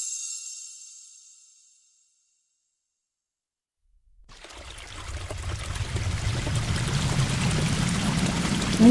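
Water of the Assiniboine river on the prairie runs in a steady, rushing stream that swells in after a pause of silence and keeps flowing at moderate loudness, following a brief fading hiss at the start.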